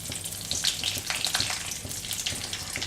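Cumin and curry leaves hit hot oil in an aluminium kadai on a gas stove, giving a close, loud, continuous crackling sizzle with brighter spits throughout; no talking.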